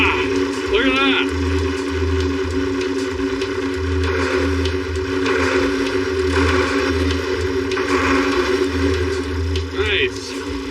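A 1951 Nash Statesman sedan runs steadily in a shed, its engine giving a continuous low, even drone with a pulsing bottom end throughout, while faint vocal sounds come and go over it.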